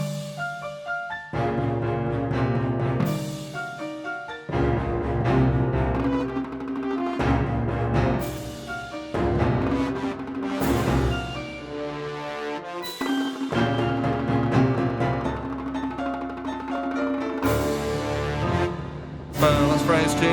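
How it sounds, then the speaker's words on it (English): Composed piano-led ensemble piece in a Stravinsky-like style, built from variations on a simple melody; busy, rhythmic chordal passages with sharp accented attacks and brief pauses, played loud and continuous with no talking. "I've done it in a kind of Stravinsky sort of style"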